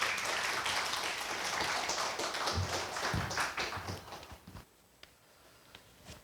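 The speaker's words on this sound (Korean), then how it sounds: "박수로 환영해 주시면 감사하겠습니다" An audience at a Korea University cooperative monthly seminar welcomes the guest speaker, Kim Jong-chul, with lively clapping that holds for about four seconds, then thins to a few scattered claps and quiet.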